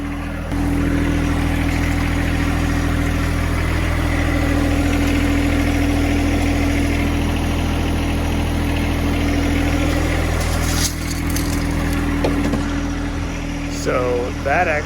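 A John Deere 2025R compact tractor's engine idles steadily and loud nearby while its loader lifts bags of dry concrete mix, holding one constant drone for the whole stretch with a brief shift near the end.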